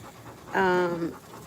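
A small puppy gives one brief, close, breathy pant with a slight whine, about half a second long, against a quiet background.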